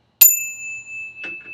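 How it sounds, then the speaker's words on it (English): A small bell is struck once and rings out clear and loud with a long sustained tone, then a second fainter ring follows about a second later, in a quiet indoor room. "I'm going to ring the bell again."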